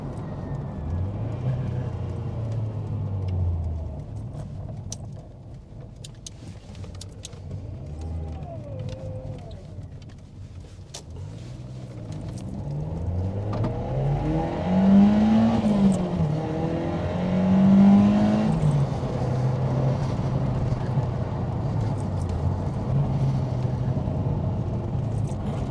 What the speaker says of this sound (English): Let's just take it through the gears again, and we'll see how it handles the little twisties